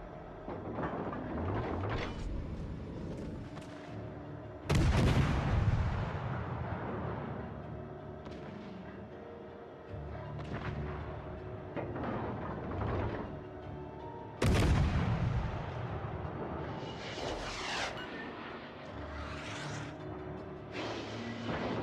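Heavy naval guns boom in the World of Warships Legends video game, two big blasts about ten seconds apart, each rolling off into a long rumble, with smaller shots and whooshing effects in between.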